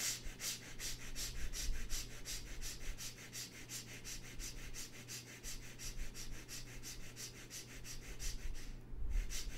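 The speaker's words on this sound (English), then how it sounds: "Start breathing, quick, short, gentle breath, keeping your awareness deep inside the heart" Quick, short, gentle breaths drawn rapidly through the nose in an even, repeating rhythm, close and fairly soft, over a low steady hum, with no talk.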